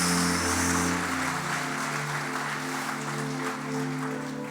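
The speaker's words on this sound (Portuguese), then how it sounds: "Aplauda a vida dela, aplauda a decisão dela." A church congregation applauds during an evangelical service, a sustained wash of clapping that fills the room before fading slightly, with organ or keyboard chords sustained underneath.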